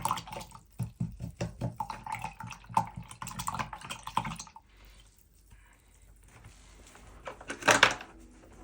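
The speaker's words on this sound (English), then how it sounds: "Swirl it in your water." A paintbrush loaded with acrylic paint is swirled and tapped in a jar of rinse water, giving soft quick clinks and light splashes, then a brief louder slosh near the end.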